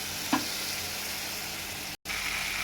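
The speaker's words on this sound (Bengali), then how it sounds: "এঁচোড়টা দিয়ে বেশ কষিয়ে নিচ্ছি" Boiled young jackfruit sautés with spice paste, turmeric and salt in a pan, giving a soft continuous sizzle, with a brief stirring scrape near the start and one very short break.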